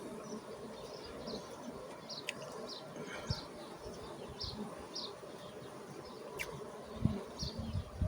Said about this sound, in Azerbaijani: Görün nə qədər burada arının sayı var